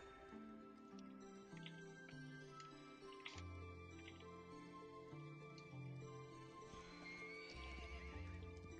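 A horse in the mobile game Perfect World Mobile, heard while learning to ride, gives a whinny, and steady clip-clop hoofbeats play quietly under the game's background music.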